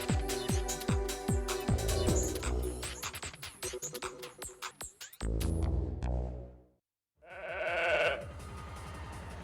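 A sheep bleats in a series of shaky, rising calls, close and clear, broken by a brief silence before another louder bleat.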